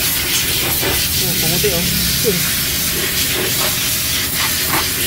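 Steady, loud hiss of a water spray washing a bearing during a repair, running continuously throughout, with brief voices talking over it.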